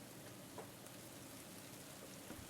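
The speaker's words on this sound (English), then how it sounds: "It's just started to rain here." Rain just starting to fall outdoors at Loch Lomond, a faint steady hiss of drops with a few soft individual patters, no voices.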